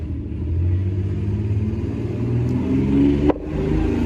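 A car engine revving, a loud, close, low rumble that rises and holds for several seconds, with a brief sharp click near the end.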